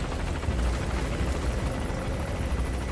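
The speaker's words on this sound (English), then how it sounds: "the helicopter's been flying around" A helicopter in the video game Metal Gear Solid V gives a loud, steady rotor drone with a heavy low rumble that runs the whole time, with no voices.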